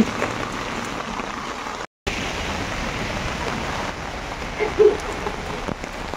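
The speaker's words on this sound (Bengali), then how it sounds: "প্রচন্ড পরিমাণে বৃষ্টি হচ্ছে" Heavy rain pours steadily on surfaces around a person walking under a small umbrella, a continuous close patter broken only by a momentary drop-out.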